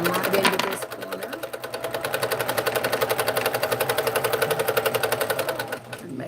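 Sewing machine stitching a quilt, a steady rapid mechanical chatter of needle strokes running continuously at close range before slowing and stopping near the end.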